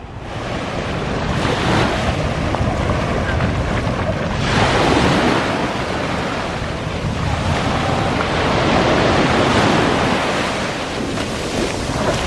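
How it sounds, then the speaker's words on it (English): Ocean waves surge onto a Grand Turk beach in loud, rolling swells that rise and ebb over several seconds, mixed with gusting wind buffeting the microphone and no voices. "There's quite a lot of pressure coming in from these waves."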